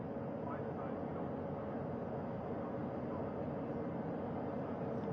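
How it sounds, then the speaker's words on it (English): A rescue helicopter hovers over the ocean, giving a steady, dense rotor and engine roar without letup, with a voice talking underneath. "That helicopter will now hover just a distance away"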